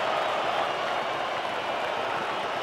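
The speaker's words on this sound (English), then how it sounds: "There goes the roar from the crowd" Crowd roaring at a State of Origin rugby league match at Lang Park, a dense, sustained wall of cheering and applause filling the stadium at steady high volume.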